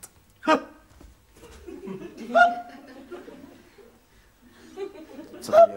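Hiccups from a man in a 1990s Czech comedy scene, a few sharp isolated jerks spaced apart with quiet voiced murmuring and breathy sounds between them.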